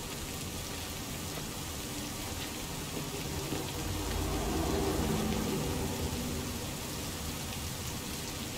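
Steady rain in the Cyberpunk 2077 video game, a dense continuous hiss of falling drops that holds at an even level and swells slightly midway, with no talking.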